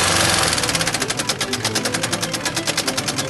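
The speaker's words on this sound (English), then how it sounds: "the timing belt snapped on his first test drive, and that engine sounded like" A car engine running badly after its timing belt snapped, giving a loud, rapid, evenly spaced mechanical knocking or clatter that continues steadily throughout, close and alone.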